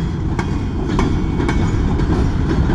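A long BNSF freight train of mostly BNSF cars rolls steadily past at close range in East Kingsford, Michigan, with a loud continuous rumble and regular clickety-clack wheel beats about every half second.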